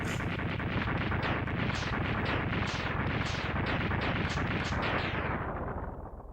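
Bomb explosions in Mega Man X2 go off in a rapid, steady string of loud, crunching blasts for several seconds, all alone, before tapering off at the end.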